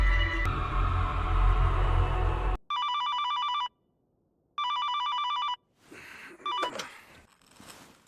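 After a loud noisy stretch, an electronic telephone rings in two bursts with a short silence between, followed by rustling.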